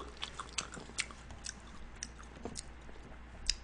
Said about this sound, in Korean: 자, 한번 먹어볼까요? 교촌의 허니콤보.